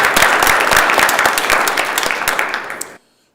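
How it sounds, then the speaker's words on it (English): A crowd applauds steadily on a state senate floor, dense, sustained clapping that fills the chamber, then cuts off abruptly near the end. "if you could please give him a big round of applause"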